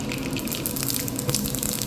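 Mustard seeds crackle and pop in hot oil as the tempering starts for a green tomato curry, a dense continuous spluttering hiss with sharp little bursts, close up and with no voices.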